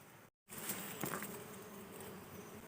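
Dense, steady buzzing of many bees around a large wild honeybee nest outdoors, continuous and fairly close after a brief dropout at the start, with no voices.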